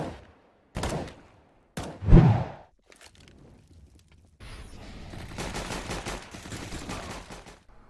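Weapon fire in a shooter video game rings out as a few sharp, separate shots, followed by a steadier spell of rapid fire and rustling movement, with no talking.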